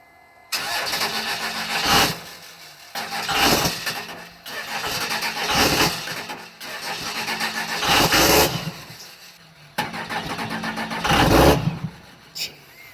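A Cummins 24-valve diesel engine cranks over and over on a cold start, struggling to catch, in several loud repeated bursts separated by short pauses.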